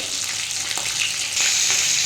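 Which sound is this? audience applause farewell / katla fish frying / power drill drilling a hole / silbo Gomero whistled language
katla fish frying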